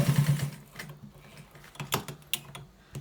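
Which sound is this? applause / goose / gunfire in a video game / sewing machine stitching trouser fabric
sewing machine stitching trouser fabric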